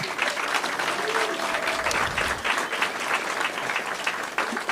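Town hall crowd applauding steadily for the full stretch, a dense, loud wash of clapping with some cheering voices mixed in.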